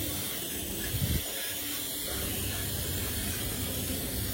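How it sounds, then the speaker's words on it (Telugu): A WD-40 spray can hisses steadily onto rusted bike and car parts, a close, continuous aerosol spray running almost the whole time with a brief knock near the start. "ఇక్కడ కూడా మనం స్ప్రే చేస్తాం"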